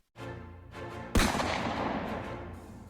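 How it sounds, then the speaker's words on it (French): A heavy explosive-laden drone's onboard charges detonate in a sudden loud blast that follows a brief low rumble, then a long rolling roar that slowly fades. "Détonation secondaire massive indiquant l'explosion des charges embarquées."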